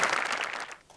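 A comedy show's studio audience applauds a performance for about a second, a dense patter of claps that starts strong and fades out quickly.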